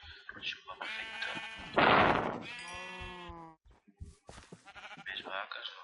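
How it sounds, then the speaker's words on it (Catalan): Sheep in the Minecraft video game bleat several times in quick succession, with one loud, drawn-out, wavering bleat in the middle and shorter calls around it, fairly close and clear. "mira, més ovelles"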